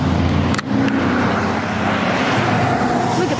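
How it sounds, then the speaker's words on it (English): Heavy traffic on a busy road, with loud continuous engine and tyre roar from nearby passing vehicles that fills the whole stretch without letting up. "Because this is a busy road."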